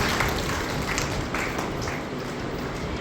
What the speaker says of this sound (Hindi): अनन्या के लिए एक बार फिर से जोरदार तालियां